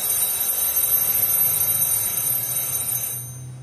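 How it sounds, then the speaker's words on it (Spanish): A medication reminder alarm rings continuously, steady and bright in a kitchen during salsa preparation, then cuts off near the end. No one speaks. "Es que puse la alarma para tomarme el medicamento que luego se me olvida."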